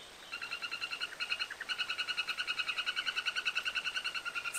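Golden dart frogs call to attract females, a rapid, evenly pulsed series of high chirping trills repeating steadily and fairly close, with a brief pause early on before the calling resumes.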